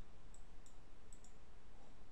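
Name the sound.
computer mouse clicking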